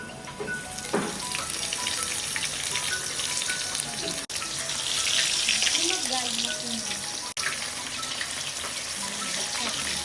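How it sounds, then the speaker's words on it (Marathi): Surmai fish slides into hot oil and fries at a Konkan homestay kitchen in Vengurla, producing a loud, continuous broadband hiss with bubbling crackle, briefly cut off twice, steady and close. "बघा आता हे तेलात सोडतो"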